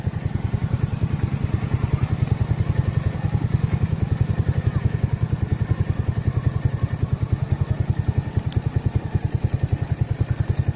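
A single-cylinder motorcycle labours up a steep slope, its engine thumping in a fast, even, loud pulse close to the microphone with a rattling clatter throughout.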